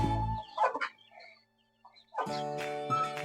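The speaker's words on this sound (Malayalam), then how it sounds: "പൂവൻ ഇറങ്ങിയിട്ടുണ്ട് കളത്തിൽ." A rooster and chickens on a terrace poultry farm: close, loud clucking and squawking calls, one short burst followed by a longer harmonic crow-like cry after a brief pause, with no talking.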